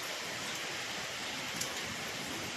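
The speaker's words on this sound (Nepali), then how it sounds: "मसिनो पानी पर्न थाल्यो" Light drizzle falls under a darkening sky, a faint, even hiss that continues steadily without any voices.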